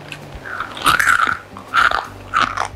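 Crunchy spiced roasted chickpeas being bitten and chewed up close, three distinct crisp crunching bursts with short pauses between them and no talking.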